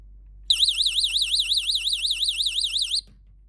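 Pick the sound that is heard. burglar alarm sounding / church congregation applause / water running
burglar alarm sounding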